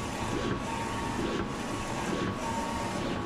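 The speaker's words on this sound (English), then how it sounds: "I'm gonna pause the printer right now" A Revel DTF-2402 direct-to-film printer runs steadily while printing a gang sheet, giving off a continuous even mechanical whir with a faint tonal whine and no speech.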